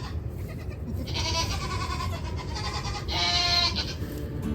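Goat bleating near a nursing newborn doeling, two clear bleats, the second a little louder, over a low rumbling background.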